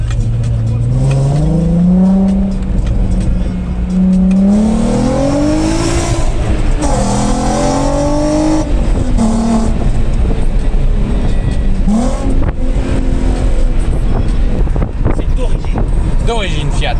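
A car fitted with a swapped-in Fiat Multipla engine drives along, its engine rising and falling in pitch through repeated revs and gear changes, loud and close from inside the cabin with no talking.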